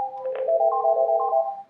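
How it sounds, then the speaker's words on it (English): An NEC UX5000 office phone rings with a steady electronic warble of layered tones that shifts pitch in a short pattern, close and clear, then cuts off, with no voices. "what do I do about my phone ringing when I'm in a meeting?"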